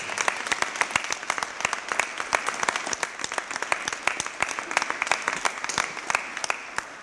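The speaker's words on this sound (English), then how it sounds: "Let's give them a great big round of applause." An audience at an opening ceremony in Buffalo breaks into steady, dense applause, loud and close, sustained for several seconds without a break.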